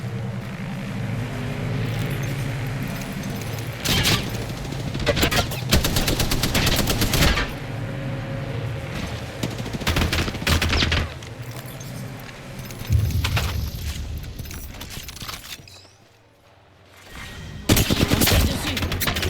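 Video game gunfire from Kraber and Volt weapons: dense bursts of rapid shots and heavy single cracks recur loudly through the whole stretch, easing into a brief lull near the end before another burst.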